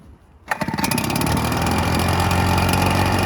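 An old Red Max EBZ7100 backpack blower engine starts after a brief quiet moment and then runs steadily and loudly at close range, a continuous buzzing two-stroke drone with no speech.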